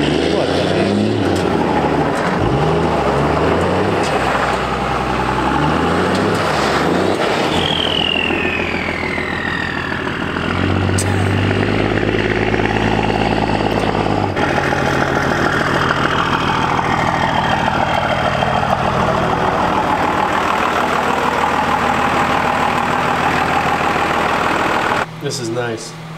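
Cummins diesel pickup engine idling and revving, a loud steady drone that swells and shifts as the truck spins a donut in a driveway, with voices talking around it.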